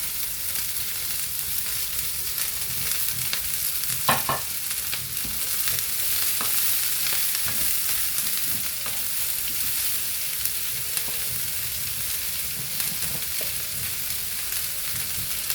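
Cabbage, onions and green chilies stir-fry in a pan with a steady, close sizzle that lasts the whole time, broken by occasional scrapes and clinks of stirring. No one speaks.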